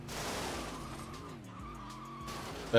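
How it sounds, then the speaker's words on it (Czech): A car skids in a video game, with a loud sustained tire squeal whose pitch wavers over a steady engine drone, ending abruptly. "To je auto, to má turn rate asi jako tanker"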